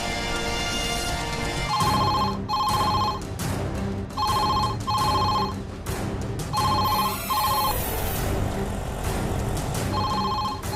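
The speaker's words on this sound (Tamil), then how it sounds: "ஃபோன் அடிக்குது." A telephone bell rings in repeated double bursts, loud and steady across the stretch, over a low background hum with no talking, in a Tamil TV serial scene.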